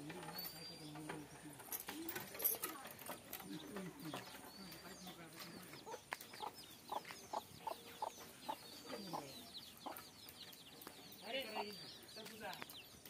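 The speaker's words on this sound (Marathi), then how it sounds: "कोंबडी भारी चरती पिल्लांबरोबर।" A hen clucks softly while feeding with her chicks, repeated short calls among other birds, fairly faint, with people talking quietly in the background.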